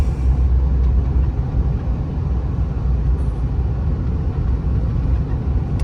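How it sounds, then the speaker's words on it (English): Steady, even rumble of wind and tire noise fills the cab of a moving 2012 Ford F-250 King Ranch 4WD with the 6.7L diesel, a low continuous road roar with no distinct knocks or voices. "Really smooth, not hearing any kind of out of place noises. A little bit of wind and a little bit of tire"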